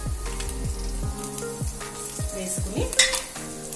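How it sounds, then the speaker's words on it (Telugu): Dried red chillies sizzle and crackle as they fry in hot oil, with repeated stirring scrapes and spoon taps against the pan; close and steady, with a brief spoken word. "కొంత వేగిన తర్వాత అందులో మనకి కారానికి సరిపోయే అన్ని ఎండుమిరపకాయలు"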